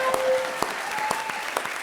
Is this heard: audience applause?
yes